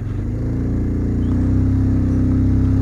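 A motorbike engine labors steadily up a steep climb on the Old Mussoorie mountain road in Uttarakhand, a loud, close, continuous low drone that builds slightly in strength toward the end.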